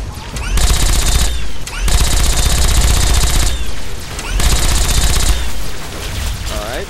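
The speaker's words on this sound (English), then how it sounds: "Sniper rifle flying past me." Dense gunfire in the Fallout 3 video game, including sniper rifle shots, comes in loud sustained bursts of rapid fire broken by brief lulls.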